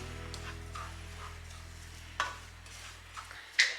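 Unroasted semolina (rava) stirred in a pan as it roasts, soft scraping strokes of a spoon against the pan with a faint low hum beneath and a couple of sharper clinks near the end.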